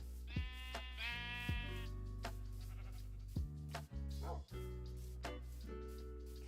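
Sheep in the Minecraft video game bleat several times in a row, loud and close, with their harmonic cries overlapping over a steady low game drone.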